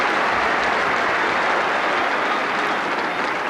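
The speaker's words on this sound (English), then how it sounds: "The Rovers supporters very generous in their applause that time for Alan O'Neill." Shamrock Rovers supporters at the 1984 FAI Cup Final against UCD applaud a save, a steady wash of distant crowd clapping from a large stadium, sustained throughout without a break.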